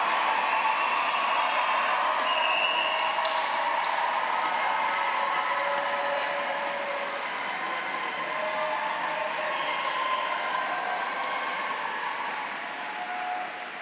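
A large audience applauds at a graduation ceremony inside Canterbury Cathedral. The dense clapping is sustained, filling the reverberant space, and fades slightly toward the end.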